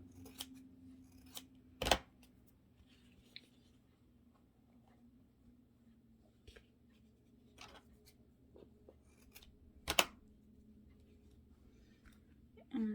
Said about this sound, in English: Just gonna trim this extra stuff here off.